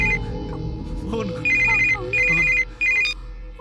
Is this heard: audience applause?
no